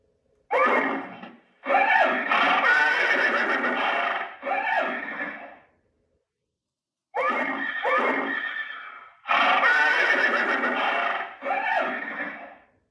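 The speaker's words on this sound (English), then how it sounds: "you get different sounds" Horse neighing sound effects from a Lionel Vision Line toy train horse car play as two loud, close sequences of whinnies and snorts with a silent gap between them.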